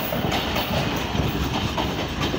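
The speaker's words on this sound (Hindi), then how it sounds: "स्पीड में पास हो रही है 41 अब कराकरम एक्सप्रेस।" The 41 Up Karakoram Express, hauled by a ZCU-30 locomotive numbered 6307, passes Drigh Road station at speed: a loud, close, continuous roar of rolling wheels with rhythmic clickety-clack over rail joints, no speech.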